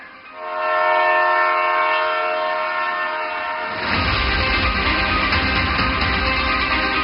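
An Indian Railways train departs on its first journey, its loud sustained horn giving way to the heavy rumble and clatter of the moving train, close and steady without talk.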